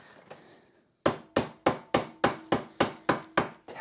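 Hammer taps on a bent metal tank strap for a 1UZ V8 Ford Focus build, nine sharp evenly spaced ringing blows after a quiet start, close and loud.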